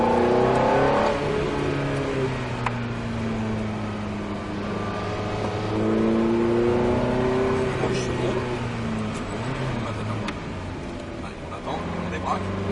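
A Ferrari F430 accelerates on a track, its engine revving up through rising, falling pitch sweeps, loud and close through an open window, with a voice speaking over it.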